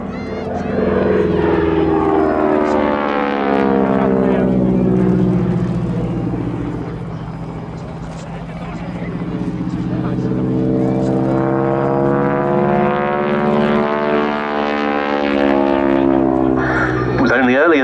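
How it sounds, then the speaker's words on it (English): A North American AT-6D Texan/Harvard III propeller trainer flies past at the Yeovilton Air Day, its rasping radial engine loud and sustained, swelling, dipping and returning with a strong pitch sweep, under a commentator's talk. "This aircraft has been used a lot over the years as a tail dragger trainer for warbird pilots"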